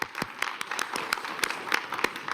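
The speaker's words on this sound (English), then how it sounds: "Warm applause." Steady, dense applause from a conference audience at a World Economic Forum session in Davos, with many overlapping claps forming a continuous wash and a few sharper individual claps standing out.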